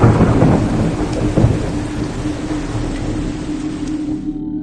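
Heavy thunder rumbles deep and loud over steady pouring rain, a continuous storm roar that holds for several seconds before cutting off abruptly.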